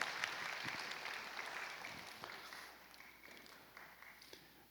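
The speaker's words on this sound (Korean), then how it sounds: "박수." Applause breaks out in a church hall during a Friday night service quiz, a soft, fairly distant patter of clapping that fades over a few seconds with faint room noise behind it.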